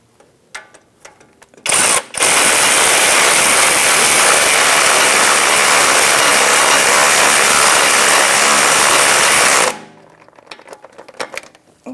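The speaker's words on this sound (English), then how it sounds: "Then I'll get my electric gun, snug it down." An electric impact gun snugs down the ground wire nut on the starter of a 1999-2025 Ford E-350 Super Duty 5.4L V8. It gives a brief blip, then a loud, continuous rattling whir for about eight seconds before stopping.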